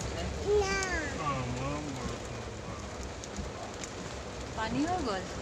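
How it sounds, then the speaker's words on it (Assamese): Rain patters steadily on surfaces nearby, a constant hiss beneath a person speaking intermittently over it. "এইজাক বৰষুণৰ খুব প্ৰয়োজন আছিলে"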